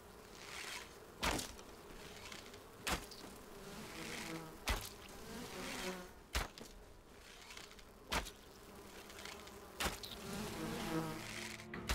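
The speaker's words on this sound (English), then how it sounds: "A lot of bees." A swarm of bees buzzes steadily in the video game Enshrouded, a continuous droning hum broken by sharp periodic clicks roughly every one and a half seconds, with no voices.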